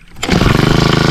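A small engine sputters to life beside a river and settles into a fast, steady chugging idle with an even pulsing rhythm, loud and close.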